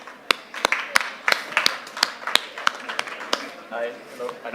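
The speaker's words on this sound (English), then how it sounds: "Can we please have the warmest applause for them?" Scattered applause from an audience greeting panelists at a conference stage, individual sharp claps spaced out rather than dense, with speech running underneath.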